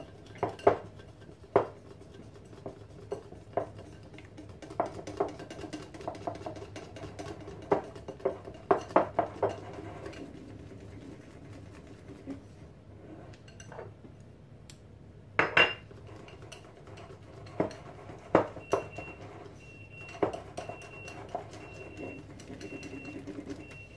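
Chocolate, butter and egg yolks are mixed in a bowl for an easy chocolate mousse, heard as scattered close clinks and taps of a utensil against the bowl over a quiet background, with faint birdsong.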